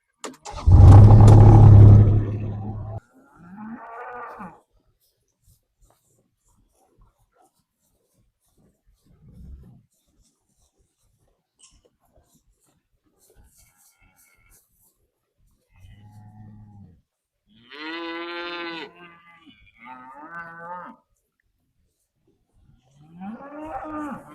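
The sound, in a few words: cows mooing on a pasture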